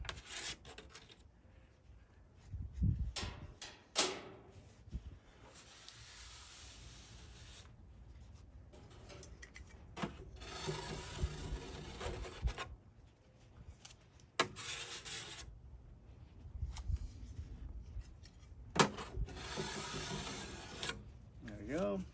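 A small hand scraper rasps over flamed maple braces on a 7-string guitar back, giving repeated dry scraping strokes in bursts with short pauses between them, close up.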